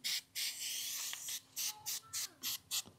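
Bursts of Mototech chain cleaner sprayed from an aerosol can onto a bicycle chain, jockey wheels and chainring, about seven short hissing puffs in quick succession, close and clear with no talk.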